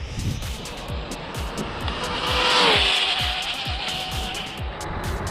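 An RC car with carbon fibre parts runs at full throttle, its high-pitched motor whine rising and falling as it passes, with tyres scrabbling and rhythmic ticking clatter across the surface, heard fairly close with no talk.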